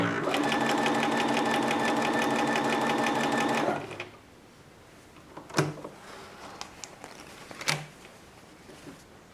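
A sewing machine runs steadily for about four seconds as it stitches a scrap of fabric, then stops; two short clicks or knocks follow in the quiet.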